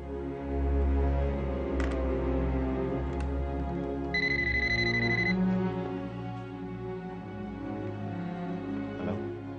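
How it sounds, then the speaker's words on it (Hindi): A phone rings unanswered in a tense office-drama scene, the electronic ringtone bursting out as a short steady tone over a background music bed, with no voices during the ring. "हेलो अभिमन्यु, तुम फोन क्यों नहीं उठाते?"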